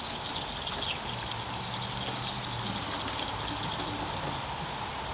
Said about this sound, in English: Hang on, let me rinse my hands here.